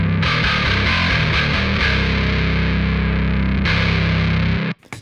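A loud, gritty distorted metal bass riff plays continuously, low frequencies cut before the distortion giving a tight, controlled low end, cutting off abruptly near the end.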